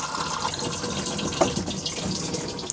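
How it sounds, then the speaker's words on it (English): Water rushes and gushes steadily as a camper van toilet flushes, close by, with a couple of small clunks near the end. "When you're done, make sure you flush with the blue button."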